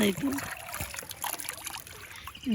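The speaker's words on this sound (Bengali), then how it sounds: "জল যাইতেছে এগুলো হচ্ছে ধান খেতে জল দেয় এই মেশিনের জল এখান থেকে জল আসে পাইপ লাগিয়ে রাখছে" Water from an irrigation pump pipe pours and trickles into a rice paddy, a close, uneven splashing flow heard beneath a person talking.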